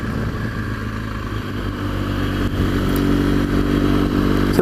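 BMW R1200GS motorcycle riding through gentle hills of the Mendips toward Cheddar Gorge, a steady close engine drone with low rumble that builds slightly in loudness, alone without talk.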